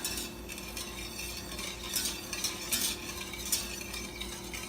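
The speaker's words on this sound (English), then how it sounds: "we are going to stir until it's all dissolved" A spoon stirs cane sugar into tea for a first batch of kombucha, soft scraping swirls with a few louder clinks rising above a steady low hum, no voices.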